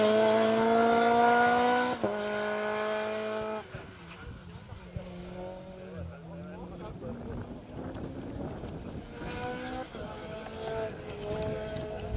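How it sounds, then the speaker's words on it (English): An MG ZR rally car races along asphalt reservoir roads during a Welsh national rally stage. Its engine climbs in pitch, drops at each gear change and surges again, with wind buffeting the microphone. "In that little MG ZR, it's a great colour scheme on that car as well."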